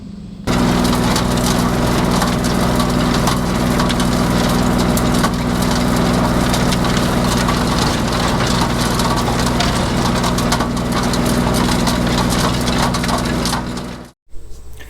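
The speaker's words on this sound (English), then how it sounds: "Just went over it real light with that tiller." A tractor-driven tiller working a dusty food plot, a loud continuous grinding, crunching roar with a steady engine drone underneath, running unbroken before cutting off abruptly.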